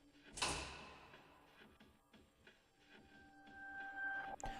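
A heavy metal door in Persona 4 Arena Ultimax opens with one sharp clank, then a quiet grinding rumble that fades over several seconds against soft background tones.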